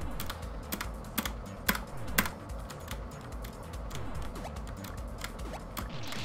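Computer keyboard keys clacking during play of the platformer I Wanna Be The Guy, a steady stream of close taps with a few louder sharp strikes, over faint game sounds.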